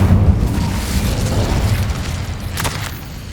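A fire spell cast in Hogwarts Legacy, a video game, bursts with a dense, rumbling boom that lingers as a low roar for a few seconds, with a brief crackling flare near the end.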